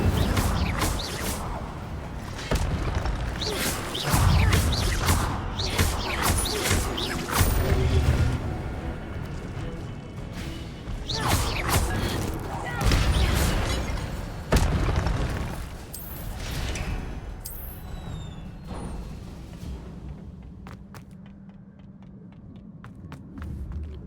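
Repeated Incendio fire spells cast in Hogwarts Legacy, a run of booming, throbbing bursts over a steady game hum, each blast fairly loud and close, spaced irregularly and fading toward a quieter rumble near the end.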